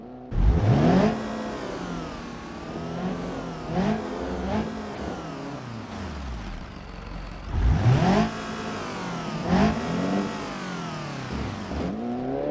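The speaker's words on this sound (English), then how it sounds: "give you a listen to the engine" A car engine in the video game BeamNG.drive revs up and down repeatedly, pitch sweeping high and falling back, loud and close, with a couple of stronger bursts of acceleration.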